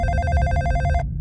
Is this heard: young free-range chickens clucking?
no